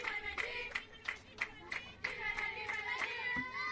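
Crowd at a softball game cheering and clapping for a player, with bursts of sharp hand claps in an irregular rhythm over a continuous background of cheering voices.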